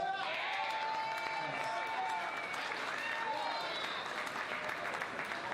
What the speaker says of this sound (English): If you give them a huge round of applause.